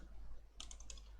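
Someone types a short command on a computer keyboard in a quiet room: a quick, faint cluster of several key clicks under a steady low hum.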